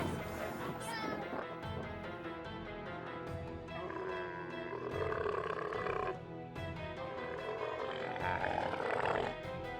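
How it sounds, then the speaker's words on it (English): Deep, rough camel grunts and roaring groans repeat close by, with speech-like sounds mixed in, loud and harsh. "ride a camel. Though getting on and off them is quite a challenge, they sure do like to grunt a lot"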